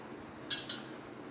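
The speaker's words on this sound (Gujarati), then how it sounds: "તો આ રીતે આપણે મોલ્ડમાં ચોકલેટ ભરી લઈશું।" A small spoon gives two quick, faint clinks while it fills silicone chocolate moulds with melted chocolate for dry-fruit chocolates. The taps come close together in an otherwise quiet kitchen.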